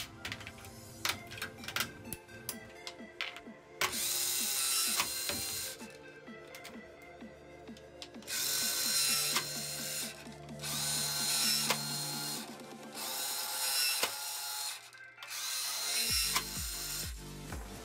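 A motor drives the shooter of a huge working LEGO pinball machine, whirring in repeated bursts of a few seconds each, between clicks, rattles and ratcheting plastic mechanism noises.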